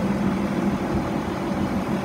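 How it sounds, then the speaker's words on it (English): A 2006 CCC garbage truck's diesel engine running with a steady, low rumbling idle, heard up close and alone for a couple of seconds without any voices. "Motor sounds good"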